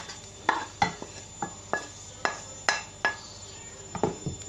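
Grated pumpkin and onion are stirred in a bowl, heard as about a dozen separate clinks and scrapes of a utensil against the dish at an irregular pace, close and fairly quiet.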